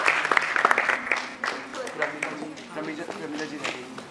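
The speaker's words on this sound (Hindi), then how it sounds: "जोरदार तालियां हो जाए दीदी के लिए" Audience applause at a staging of the play Panchwati, based on the Maithili Sharan Gupt poem, with scattered sharp claps at first that thin into uneven clapping, while people talk loudly over it.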